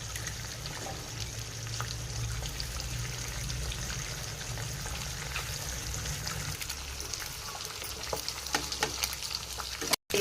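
Three eggs fry in a pan while Maggi noodles are being made, giving a continuous crackling sizzle. Scattered clicks of a spatula come through, and a short sharp bump sounds at the very end.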